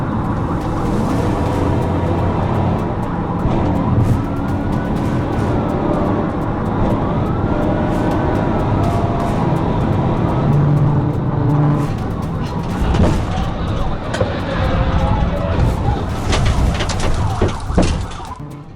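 A Ford Mustang racing at over 100 mph in a highway police chase, steady loud road and engine roar rushing past traffic, with sirens wailing in rising and falling sweeps and bursts of wind noise near the end.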